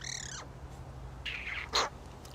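Sophie, a pet corvid of the crow family, gives a short harsh call, then a few fainter squawks after a pause. The calls are brief and close against a quiet room hum.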